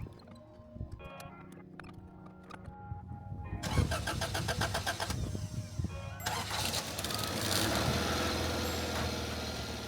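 A long-abandoned Acura Integra GS-R on a trailer cranks with its starter, sputters, then catches and settles into a steady, fairly close running idle.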